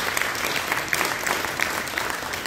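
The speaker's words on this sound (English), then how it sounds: "Give God a hand clap of praise." Congregation at a Christmas Eve church program clapping in praise, a steady dense wash of many hands, fairly loud and unbroken, with no talk over it.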